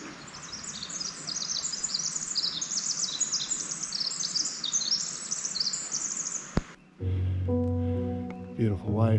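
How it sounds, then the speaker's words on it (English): Dense, high-pitched chirping of birds fills most of the clip over a soft outdoor background on the Mine Road Trail near Snow Gulch, then cuts off abruptly before a brief different sound. "Sound of the birds."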